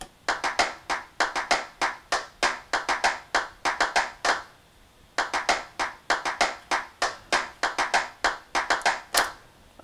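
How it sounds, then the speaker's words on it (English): Recorded hand claps in a pop track groove, crisp sharp hits in quick syncopated bursts repeating in a steady pattern, with a brief pause near the middle before the pattern resumes. "the part that is really gluing it all together is these claps right here"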